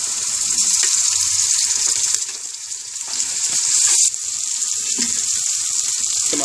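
Ginger-garlic paste and green chilli paste hitting lightly fried onions in a hot pan, a loud steady broadband sizzle close up with brief surges and dips, no one speaking.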